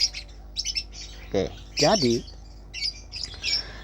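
Short pet bird chirps and squawks come in scattered bursts, fairly close, with a brief spoken phrase in between.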